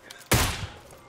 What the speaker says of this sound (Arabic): خذ لك طلقة.